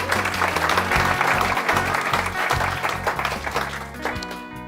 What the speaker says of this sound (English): Please give James a really warm welcome with some whoops and claps.